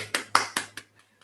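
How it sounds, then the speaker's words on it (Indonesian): Four sharp hand claps, evenly spaced and close, then two much fainter taps, from a small audience cheering on a participant at a CHR Life Insurance event. "tepuk tangan buat Anda"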